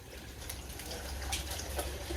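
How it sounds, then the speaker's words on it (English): Plain tap water poured into a container of crushed computer scrap during a gold recovery process, a steady low liquid gush and trickle running continuously and fairly close throughout. "And then I pour some water in there. It's just plain water, it doesn't have to be distilled water."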